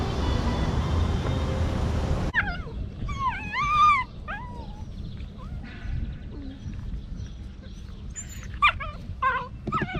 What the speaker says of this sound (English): It's the world's nippiest dogs.